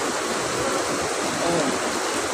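Pidlanan Falls waterfall pouring steadily, a continuous close rush of broadband water noise with no pauses.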